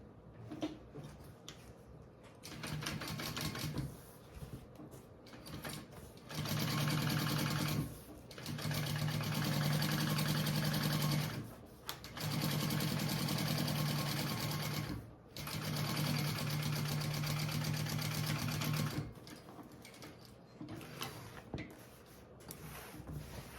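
A sewing machine top-stitches tote bag fabric panels in several steady runs of a few seconds each, separated by short pauses. The whirring hum is close and loud, and no voices are heard.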